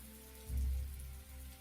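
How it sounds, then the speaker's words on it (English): Steady rain falling on a surface, a soft continuous patter with a low rumbling swell partway through; no voices. "The rain and the sound of the rain is rather soothing."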